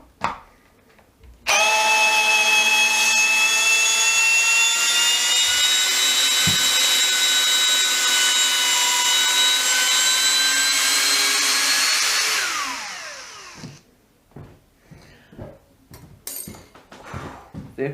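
A Makita HP332 12V brushless drill runs at steady high speed for about ten seconds, a loud whine with strong harmonics, then spins down; a few faint clicks and handling noises follow.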